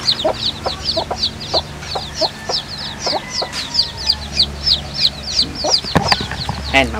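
A native hen near her eggs clucks in a repeated rhythmic series of close, moderately loud calls, with some rustling beneath and a sharper burst near the end.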